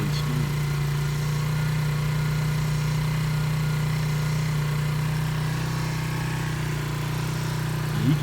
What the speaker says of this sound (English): But the engine started really, and it sounds really, really smooth.